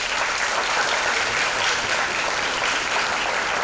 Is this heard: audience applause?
yes